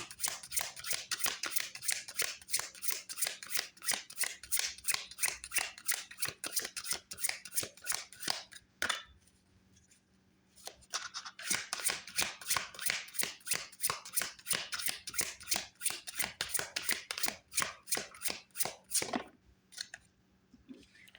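Tarot cards are shuffled in close, rapid bursts of soft riffling slaps, with two long runs split by a brief pause, quiet and alone without any voice.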